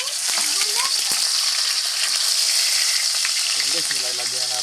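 Chopped tomatoes hit sizzling adobong takway in a hot pan, setting off a loud, steady frying crackle and hiss that fills the whole stretch, with faint voices and stirring underneath.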